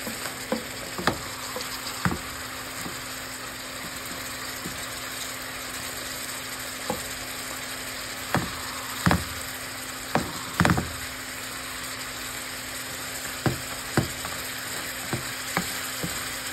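Snow crabs fry in a pan with coconut milk, a constant close sizzle broken by scattered sharp scraping and clacking knocks as the shells are turned over; no one talks.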